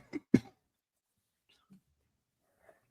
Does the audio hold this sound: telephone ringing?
no